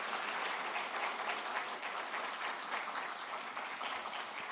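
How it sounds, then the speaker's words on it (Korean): A church congregation claps steadily throughout, a dense, even patter of many hands with no voices on top. "우리 박수로 한번 치고"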